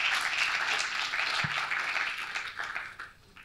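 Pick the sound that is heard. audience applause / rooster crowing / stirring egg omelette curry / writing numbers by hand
audience applause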